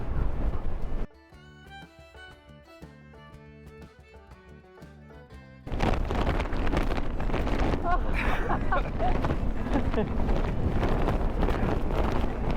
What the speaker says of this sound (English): the wind takes your breath away